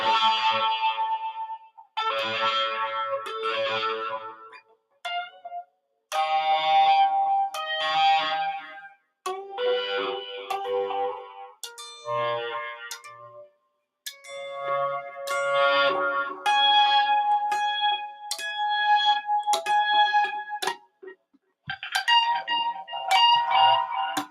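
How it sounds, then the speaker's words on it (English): Electric guitar played through an amp with effects, choppy chords and note runs with distorted, chorus-like shimmer, stopping and starting in short bursts. "You can only hear the guitar amp."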